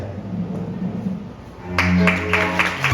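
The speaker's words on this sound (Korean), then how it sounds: "양가 어머님들께서 입장해 주실 때 대리 여러분께서는 따뜻한 박수를 보내주시면 감사하겠습니다" Wedding guests in a hall clap as the mothers of the bride and groom enter. The applause swells partway through and blends with steady tones.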